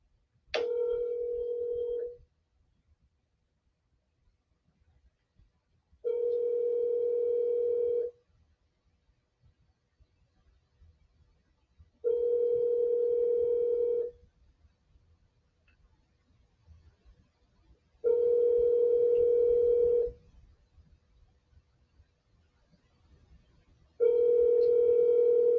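An outgoing telephone call rings unanswered, five evenly spaced ringback tones, each about two seconds long with roughly four seconds of near silence between them, clear and steady.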